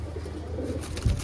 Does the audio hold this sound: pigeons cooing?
yes